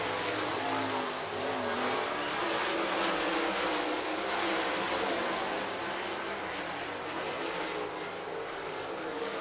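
Race cars lapping the oval at Southern Raceway in Milton, Florida, a continuous broad engine roar that swells and fades slightly as they sweep through the turns, loud and steady with no pauses.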